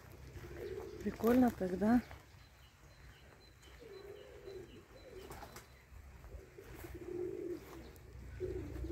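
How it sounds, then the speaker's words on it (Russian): Pigeons in a courtyard dovecote: a clear burst of soft cooing near the start, followed by fainter intermittent coos and murmurs, with a person speaking briefly over the quiet outdoor background. "Смотрите, во дворе стоит голубятня."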